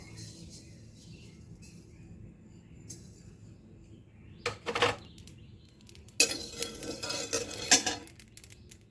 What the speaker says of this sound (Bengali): প্রথমে আমি শুকনো কড়াইয়ে পোস্তটাকে ভেজে নেব